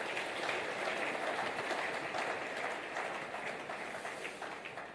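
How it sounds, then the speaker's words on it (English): Audience in a church hall applauds steadily, a dense wash of many hands clapping at once that holds for several seconds and eases slightly toward the end. "Let's give him another round of applause"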